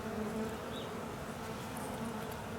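Honeybees buzzing around a hive during spring varroa mite treatment, a dense continuous droning hum close by with individual bees passing.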